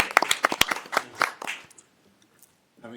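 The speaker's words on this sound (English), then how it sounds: "Let's give Jason a big round of applause." Audience at a city council meeting in Gaithersburg claps, a short burst of sharp, distinct hand claps from a small crowd that quickly thins out and stops, leaving near silence.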